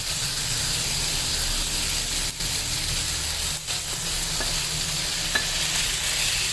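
Chicken mince sizzles and hisses steadily in a hot pan with ginger and garlic, a continuous close frying crackle with a couple of brief stirring scrapes.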